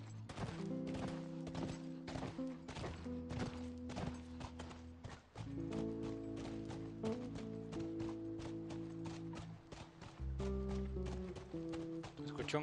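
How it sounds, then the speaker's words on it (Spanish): Rhythmic clip-clop of horse hooves in The Last of Us video game at a quick pace, fairly close, with a low rumble underneath and a brief pause midway. "Escuché un caballo."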